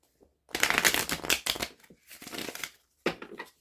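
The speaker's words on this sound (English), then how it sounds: "Let's give this deck a couple quick shuffles." A deck of cards is shuffled in a few quick riffling bursts, close and crisp, with short pauses between.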